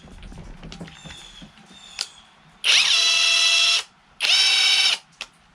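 A Mensela 18V cordless 1/2-inch impact wrench, battery powered, fires in two loud, close bursts of high-pitched whirring motor whine, each about a second long, after a few quieter clicks and taps of handling.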